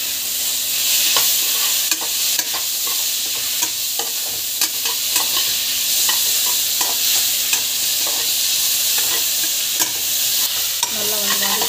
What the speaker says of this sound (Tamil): நல்லா வந்து வதக்கிக்கோங்க.